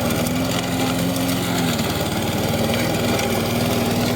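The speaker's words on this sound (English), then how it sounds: "The high grass, push mower's nightmare." A Troy-Bilt 11A-542Q711 push lawn mower drones loudly and steadily up close while cutting thick, high grass, its engine pitch sagging briefly under load before recovering.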